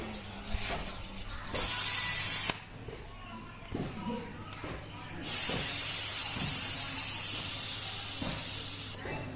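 Air hisses out of a tyre being deflated in two loud, steady bursts, a short one and then a longer one that slowly fades, with someone speaking in the quieter gaps and some clicking handling noises.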